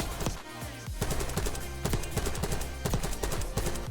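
Krig C assault rifle fired on a video game test range, sharp rapid automatic bursts with brief pauses between strings of shots, loud and close with no talking.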